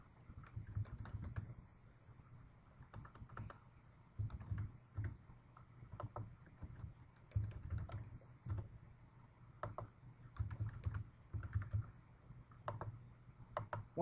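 Account information is typed on a computer keyboard in quiet, uneven bursts of close key clicks, with brief pauses between runs of keystrokes.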